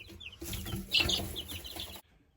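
Frizzle chickens cluck and squawk close by in a short, busy burst that peaks sharply near the middle before cutting off abruptly, with no talking.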